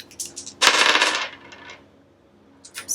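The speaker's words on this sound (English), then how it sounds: "So I'm going to use my dice, roll some random dice and see what the number is." Several dice rolled and tumbling onto a surface: a quick scatter of clicks, a dense rattling clatter, then sparse taps as they settle, close and fairly loud, with no talking.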